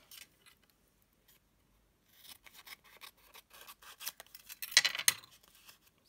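Hand-stained paper being folded in half while making junk journal envelopes. After a quiet start, soft crinkling, rubbing and scraping follow in irregular bursts, with a louder crisp rustle near the end.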